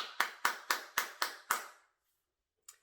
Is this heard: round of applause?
yes